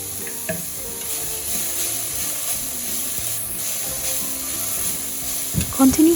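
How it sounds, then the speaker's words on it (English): Shredded cabbage stir-frying with a little turmeric powder in a pan, a steady close sizzle with soft stirring scrapes and a few louder clanks near the end. "After about a minute of stirring, can add in turmeric powder."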